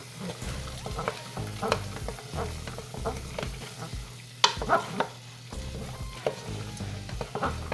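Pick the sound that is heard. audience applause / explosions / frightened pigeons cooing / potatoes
potatoes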